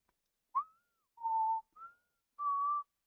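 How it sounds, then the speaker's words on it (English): A person whistles a short tune alone in a quiet room: four distinct notes, the first a quick upward slide, then sustained steady tones with brief pauses between them. "Oh, sorry about the whistling."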